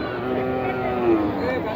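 A cow moos in a low, drawn-out call at a busy village cattle market in Naogaon where cows and calves are sold, the lowing close and fairly loud amid background crowd murmur.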